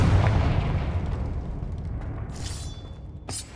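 A Confringo fire spell in Hogwarts Legacy explodes with a heavy, booming blast that starts loud and slowly rumbles away, followed by faint crackling and a brief sharp burst near the end.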